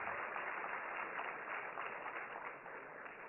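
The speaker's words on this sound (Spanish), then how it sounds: "Un fuerte aplauso para todos ellos" Audience applause for a panel and its moderator at a conference session, a steady faint wash of many hands clapping throughout, without talk.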